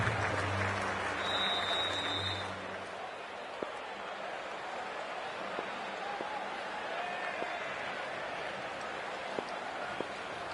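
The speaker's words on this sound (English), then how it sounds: "already the crowd is up and about" Cricket stadium crowd at an IPL match between MI and SRH, a broad steady roar of cheering and applause filling the space, with a brief tonal horn or chant near the start, sustained and fairly loud throughout.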